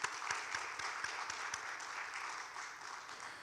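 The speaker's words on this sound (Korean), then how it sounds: "큰 박수 부탁드리겠습니다" At a global peace forum roundtable, an audience gives quiet applause to welcome a speaker. The clapping is faint and distant, with a few sharper claps early on, then settles into a soft, steady patter.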